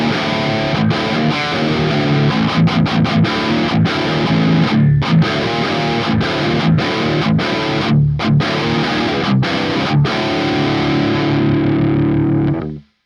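Heavily distorted electric guitar run through ToneLib Metal amp software on its stock preset, chugging palm-muted riffs with sharp stops and sustained chords, loud and close, ending on a ringing note that cuts off.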